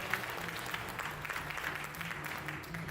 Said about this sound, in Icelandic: Gefa honum gott klapp.